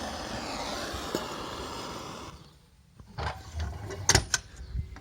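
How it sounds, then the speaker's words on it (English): A wood-fired stove door on a Stirling engine generator rig swings shut with a couple of close metallic knocks and clunks in the second half, after a steady roaring hiss from the freshly lit fire dies away. "I'll close the door."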